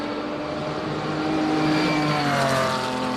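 A classic Porsche race car at a hill climb, its engine a loud continuous roar with a rising pitch as it accelerates up the course, with no talk.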